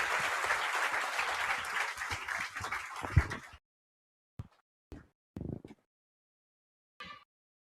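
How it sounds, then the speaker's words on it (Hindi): Audience applause at a seminar in Jaipur, a dense wash of clapping that fills the room for about three and a half seconds, then stops abruptly, leaving a few short isolated sounds in the quiet. "ये आपके लिए तालियां बजा रहे थे"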